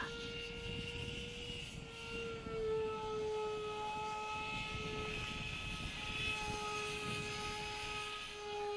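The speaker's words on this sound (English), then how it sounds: "bit of a splutter from the EDF there" Electric ducted fan on a cardboard model aircraft in flight, a steady high whine with shifting tones that wavers and splutters slightly, continuous and fairly distant with no talk.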